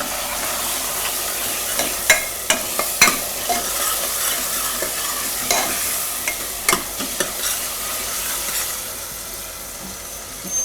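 Potato filling for Gujarati shaak parotha is turned in hot oil, a continuous crackling sizzle punctuated by frequent sharp spoon scrapes and taps against the pan, near and fairly loud, without talk.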